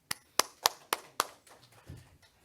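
Brief applause at an eco-friendly packaging forum: five distinct, sharp claps in steady rhythm, then a few faint scattered taps trailing off.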